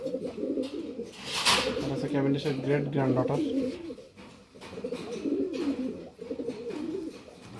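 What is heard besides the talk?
pigeons cooing in a breeding loft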